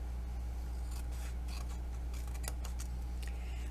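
Scissors cut through a sheet of craft material in a few short, crisp snips over a steady low hum, with no talking.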